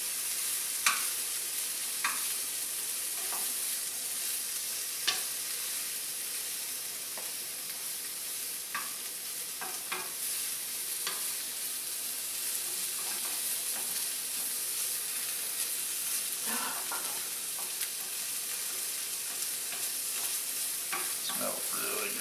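Bacon fries in a pan with a steady, bright sizzling hiss, dotted with small pops and occasional clicks of a utensil, close by and continuous throughout.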